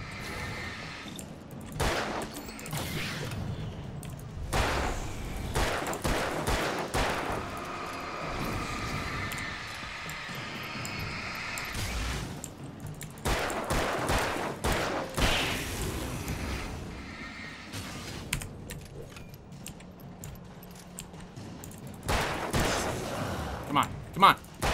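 Gunfire in the video game Alan Wake, a run of sharp shots and bursts scattered through the scene, mixed with thuds and game noise, with someone talking over much of it.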